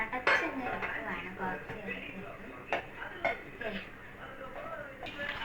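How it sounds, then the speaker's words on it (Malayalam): A metal lid is set onto a cooking pot of tomato rice, giving a few close clanks and clinks of metal cookware scattered among soft kitchen handling noise. "നമ്മൾ നെക്സ്റ്റ് ആയിട്ട് ചെയ്യുന്നത് അടപ്പ് വെച്ച് അടച്ചങ്ങ് വെക്കുവാണ്"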